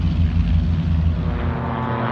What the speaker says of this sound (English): Those are racing aircraft.